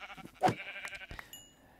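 A sheep in Minecraft gives one short, wavering bleat, followed by a few softer game sounds. It is fairly close, with no talking over it.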